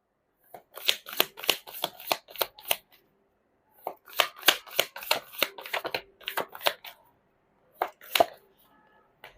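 Tarot cards are shuffled close up in two quick rapid bursts of crisp riffling snaps, followed by a few isolated card flicks against near silence.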